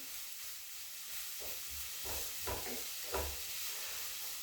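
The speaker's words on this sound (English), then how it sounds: "we've got our onions on and we're cooking them" Onions cooking in a pan for corned beef hash give a steady low sizzle and hiss, with a few brief louder bursts of spitting or stirring partway through.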